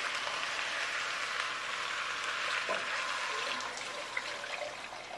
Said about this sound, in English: So what I'm going to do now is add water.